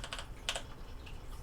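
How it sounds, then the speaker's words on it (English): Quick bursts of typing on a computer keyboard, a few close, soft clicks clustered near the start and middle of a short, quiet stretch. "I'm not a fast typer."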